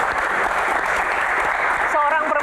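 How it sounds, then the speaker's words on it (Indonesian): An audience bursts into applause, a thick continuous clapping at steady volume, joined near the end by a brief voice over the clapping. "Tepuk tangan buat Bu Shirley ya."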